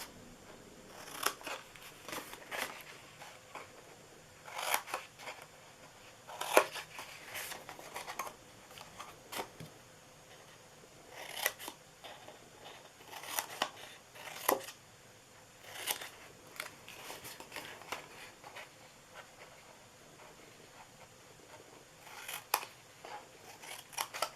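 Scissors snip through paper in short crisp bursts at close range while a birthday treat box is being made, repeated cuts separated by quiet gaps, with no talking.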